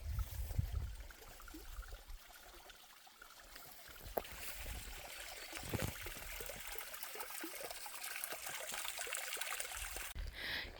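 A small creek trickles and babbles along a Pacific Crest Trail hike, a faint continuous watery patter heard close by with no voices, a few brief rustles and knocks along the way.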